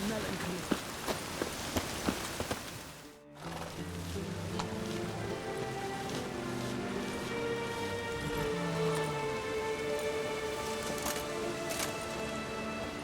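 Steady rain pours down in The Witcher 3, a constant wash of falling water under game music and ambient sounds after a brief drop-out, with a voice speaking at the start.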